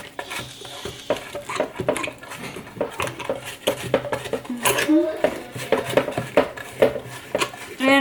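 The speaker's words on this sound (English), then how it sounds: "And now with a spatula, we're just gonna like mix it" A spatula clatters and scrapes against a bowl while almond-milk batter is stirred, giving a rapid run of close, uneven taps and scrapes.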